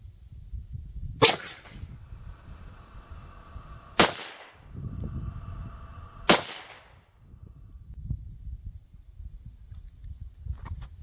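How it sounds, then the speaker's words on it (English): A .243 rifle loaded with Remington Core-Lokt ammunition fires three loud, sharp cracks at a 25-yard range, spaced two to three seconds apart, over low outdoor rumble. "So the next two shots should be hitting in that same general area."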